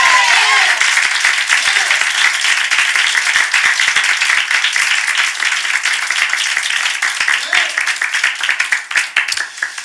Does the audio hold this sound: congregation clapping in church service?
yes